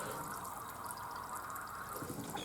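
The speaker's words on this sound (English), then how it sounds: "when we push it down on the water, you can see we've got a jet of bubbles coming out right back here" A wet ROHO air cushion pushed down in a sink of water leaks a steady jet of air bubbles, a continuous close hiss and fizz that carries on without a break.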